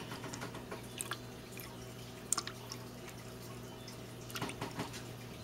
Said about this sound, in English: Pour in my water.